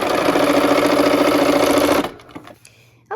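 A sewing machine runs in a steady, loud continuous whir for about two seconds while stitching fabric pieces together, then stops, leaving faint handling clicks and rustles.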